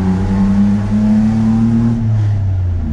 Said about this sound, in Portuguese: Cara, o som desse carro é sensacional.